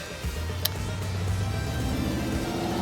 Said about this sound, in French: Voilà, petite voiture.